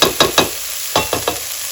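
Onions sauté in a pan on the stove, a steady hiss of frying marked by several quick scraping stirs, close and fairly loud, with no one speaking.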